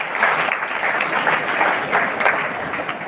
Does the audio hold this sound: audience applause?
yes